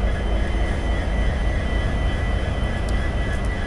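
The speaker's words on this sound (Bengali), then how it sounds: "বন্ধুরা এই যে সাতরাগাছি রেলওয়ে স্টেশন" Steady, loud, rumbling ambience fills Santragachi railway station, a continuous broadband roar with no distinct events and no voices.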